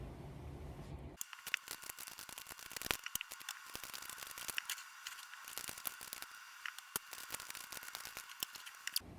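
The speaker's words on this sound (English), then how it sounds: "I am going to shuffle the cards through and then we will get going on your reading." Tarot cards riffle and slap in rapid, crisp bursts as a deck is shuffled close by, a dense run of papery flicks and taps with no voices.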